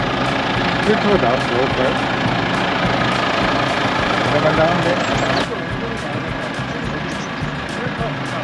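Tractor engine drones steadily and fairly loud while it seeds carrots in six rows on an organic farm field in Gujwa, Jeju, with people talking over the running motor.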